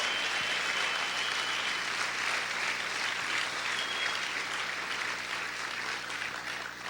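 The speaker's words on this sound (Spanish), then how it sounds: "Aplaude, aplaude fuerte a tu Dios." A church congregation applauds God loudly in a Spanish-language worship service, sustained roaring clapping from a full room that holds steady for several seconds and tapers slightly at the end, with no speech over it.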